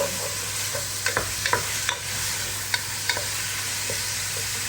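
Chicken stir-fried in a pan for ginisang togue, with a loud, constant sizzle and sharp intermittent scrapes and clinks of a utensil stirring.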